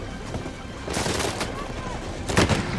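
Sharp, heavy hand cannon gunshots in Uncharted 4, a few spaced blasts amid background game noise and a voice speaking.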